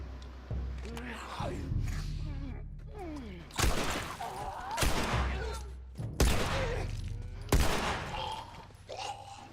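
Gunfire in the video game The Last of Us Part 2, several loud sharp shots in a short volley, each cracking out with a ringing tail, heard amid someone talking.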